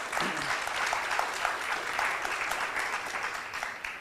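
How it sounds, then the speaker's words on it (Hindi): An audience at an inaugural session applauds the governor, dense, steady clapping from many hands in a hall, sustained at an even level throughout with no talk over it. "तो आई थिंक हम लोग एक जोर से ताली हमारे राज्यपाल जी के लिए बजा सकते हैं"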